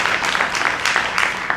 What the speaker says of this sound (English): So another round of applause for her